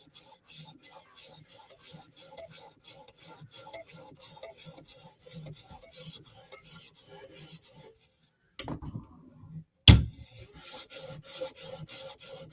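A giant chipped kitchen knife is drawn across sharpening stones in quick repeated passes, a raspy scraping rhythm, followed by a pause and a couple of sharper knocks as the blade is handled.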